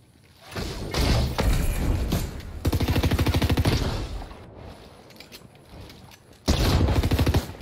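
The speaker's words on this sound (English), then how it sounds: "I aimed down sight to shoot him." Gunfire rings out in the Fortnite video game as loud bursts of rapid shots. Several volleys of quick, evenly spaced reports break out, separated by quieter gaps, with thuds and mechanical clicks between the bursts.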